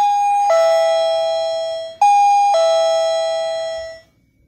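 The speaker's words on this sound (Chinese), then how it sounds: "如果拨到 on to 是叮咚叮咚" Two loud electronic ding-dong chimes ring from an infrared motion-sensor doorbell, each a bright two-note tone left to ring out and decay, with nothing else audible.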